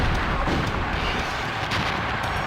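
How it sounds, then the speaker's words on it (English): Continuous loud, rumbling blasts from the video game Blast Corps fill the scene, dense booming and crackling explosions with no pause and no voice over them. "Did you see that explosion?"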